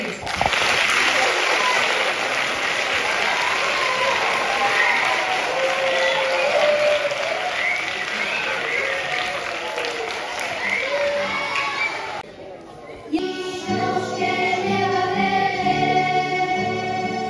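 A crowd at a school's 50th-anniversary event in Cartaya claps loudly and steadily for elderly members of the school choir, then the applause cuts off and tonal music takes over.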